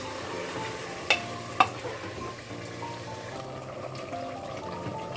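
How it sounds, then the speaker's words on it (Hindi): Garlic ginger paste frying with mutton, a low steady sizzle with two sharp clinks of a spoon against the pot early on, then quieter stirring. "देखिए लहसुन अदरक डल के भी अच्छे से भुन गया है"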